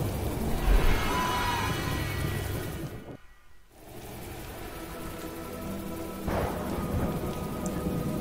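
Heavy rain pours steadily in the Myths of the World video game, a dense hiss punctuated by rumbling thunder, cut briefly to near silence midway before the downpour resumes loud and close.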